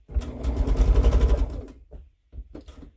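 A home sewing machine stitching a baby quilt whirs in a steady rapid run for over a second, stops, then gives a couple of short bursts, close and loud with no talking.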